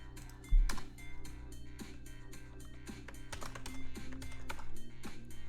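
Steady, fast typing on a computer keyboard while coding, close and clear with dense clicky keystrokes and one louder thump near the start.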